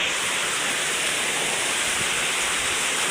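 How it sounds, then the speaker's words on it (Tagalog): Heavy typhoon rain pours down in a dense, loud, unbroken hiss that fills the whole stretch with no let-up. "ang lakas na ng ulan"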